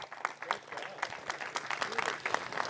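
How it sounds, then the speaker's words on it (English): A community conversation audience claps for the panelists, a scattered round of applause with distinct individual claps, modest in volume, with some voices mixed in. "Let's give a round of applause."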